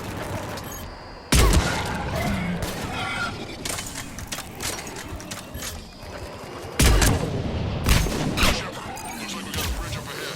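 Gunfire in Mass Effect 3 rattles through a firefight, dense bursts with sudden loud blasts and booms over a busy battle din, while voices speak intermittently.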